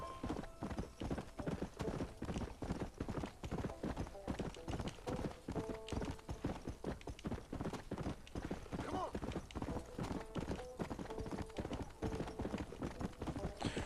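Steady clip-clop of horse hooves at a walking rhythm in the video game Red Dead Redemption, close and fairly loud, continuing throughout with faint background music.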